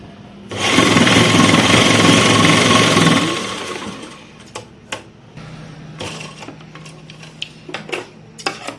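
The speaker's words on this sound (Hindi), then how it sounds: "सीधी सिलाई हम एक बार इसको ऐसे रखते हुए ही लगा रहे हैं।" Sewing machine stitching a straight seam on a kurti, running as a loud, steady whirring rattle for about three seconds and then stopping, followed by quieter clicks and handling of fabric.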